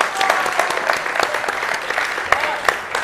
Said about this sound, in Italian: Partono tanti applausi